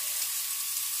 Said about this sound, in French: Petite cuisson des brochettes à la plancha.